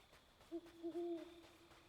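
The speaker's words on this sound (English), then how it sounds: "I definitely heard the owl just now." Owl hooting in the video game Death's Door: a few soft, low hoots, the last drawn out, sounding faint and somewhat distant over a quiet background, with no talk.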